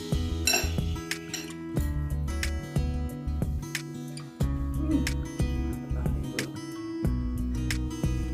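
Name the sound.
stirring chicken noodles (mie ayam) in a bowl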